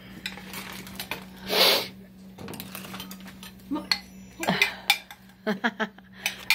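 Spoons and dishes clink briefly in a kitchen during strawberry jam making, a few light metallic clatters and taps scattered under a steady background hum, with people talking nearby.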